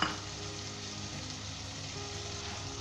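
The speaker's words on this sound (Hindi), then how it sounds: "ऐसे 5 मिनट तक हाई फ्लेम के ऊपर हम भूनेंगे" Mutton with chopped green chillies fries in a pan over high flame, giving a loud, steady sizzle with no break and no voices.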